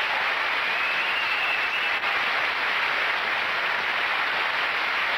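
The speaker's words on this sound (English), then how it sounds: "a big round of applause for the Crystal Palace Diving Show Team" Dense, steady applause from a large audience at a diving show, loud and continuous with no pauses, filling the whole stretch like a roaring wash of clapping.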